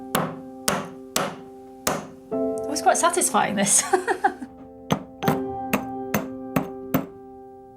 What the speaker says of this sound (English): Hammer it until it gets smaller and smaller.